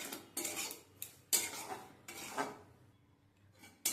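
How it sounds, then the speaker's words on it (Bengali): A spoon scrapes and clinks against a pan as semolina is dry-roasted and stirred, giving several separate bursts of metallic scraping with short quiet gaps between them and no voices. "সুজিটাকে হালকা করে একটু ভেজে নিচ্ছি, নাহলে কাঁচা কাঁচা গন্ধ বেরোবে।"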